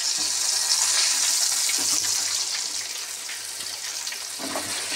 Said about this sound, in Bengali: চলো বেগুনটা ভাজা হয়ে যাক